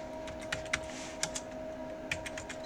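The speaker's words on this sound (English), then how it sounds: "let's start by typing in the citations of the authorities that we want to" Citations are typed on a computer keyboard in a quiet room: a handful of crisp, separate keystrokes arrive in short irregular bursts over a faint steady hum.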